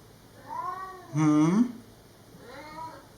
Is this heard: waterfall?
no